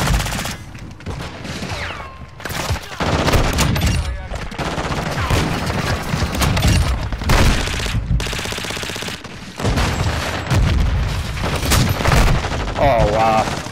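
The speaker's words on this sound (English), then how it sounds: "Here they come with the shotgun." Gunfire in a video game, with bursts of loud shots packed tightly across the whole stretch and only brief lulls between them. A voice talks over parts of the firing.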